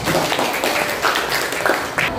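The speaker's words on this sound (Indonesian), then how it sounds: "Oke, tepuk tangan dulu untuk kami." Audience applause at a Bugis song performance for a teaching assessment, a dense steady patter of clapping with a few louder bursts, close and fairly loud.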